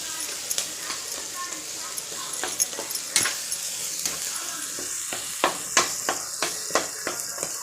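Manathakkali berries and spices sauté in a pan for a tamarind curry, crackling with a steady sizzle broken by a string of sharp spatula scrapes and stirs.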